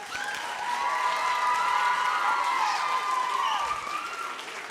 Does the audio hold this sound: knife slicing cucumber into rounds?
no